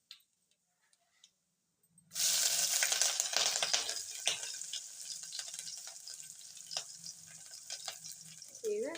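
Green chillies and curry leaves dropped into hot oil for a ridge gourd palya: after near silence, a loud, crackling sizzle bursts up and keeps spitting and popping close by.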